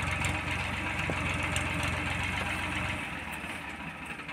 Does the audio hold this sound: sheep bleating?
no